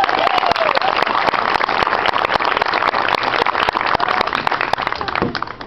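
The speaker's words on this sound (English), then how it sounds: "So I think you guys owe her a round of applause." An audience at a high school FFA officer retiring ceremony applauds in a sustained, even patter of many hands, fairly loud and continuous, tapering slightly near the end with no talking.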